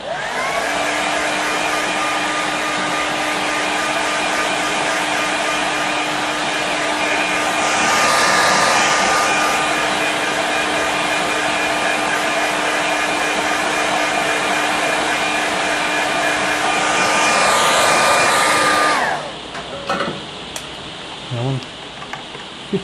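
A hair dryer runs continuously for about nineteen seconds to dry a watercolour-style painting, a loud steady whine with a sustained hum that swells briefly twice, then cuts off abruptly, leaving faint handling sounds.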